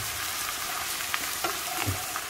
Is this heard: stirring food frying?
yes